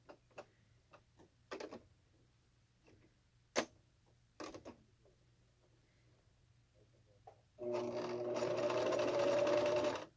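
A sewing machine stitches fabric for a cloth face mask: scattered clicks and short mechanical bursts give way to a loud, steady whirring run of stitching near the end.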